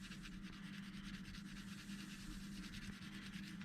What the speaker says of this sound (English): Let the sanding pad work for you